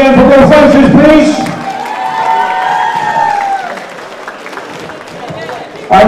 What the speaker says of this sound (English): can we please have a big round of applause again for both fighters, please?